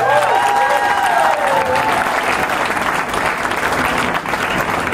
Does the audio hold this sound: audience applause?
yes